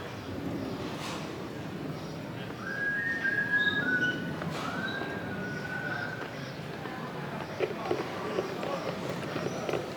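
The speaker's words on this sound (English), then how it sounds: "some guy was whistling a song inside the building" A man whistles a song inside a church in Rome. Faint, drawn-out melodic notes drift above steady crowd murmur, footsteps and nearby talk.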